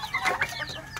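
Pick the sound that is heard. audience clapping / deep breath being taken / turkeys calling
turkeys calling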